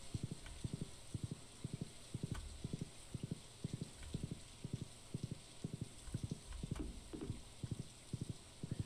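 Horse hooves clip-clopping in the video game Stardew Valley, a steady, evenly paced run of crisp hoofbeats close by with no talk.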